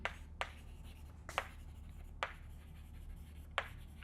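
Chalk or marker tapping and scratching on a board as a math formula is written in a lecture hall, five sharp separate strokes spread over a few seconds against a low steady room hum.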